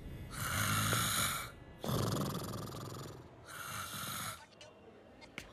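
A patient in a hospital comedy scene snores in three long, loud, rasping breaths close by, each followed by a short pause, and some faint clicks come at the end.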